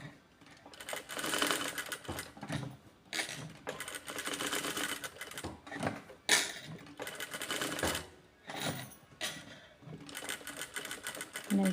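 A sewing machine runs in bursts, stitching practice seams on fabric: fast rattling runs broken by short pauses, fairly close and clear, with no one talking.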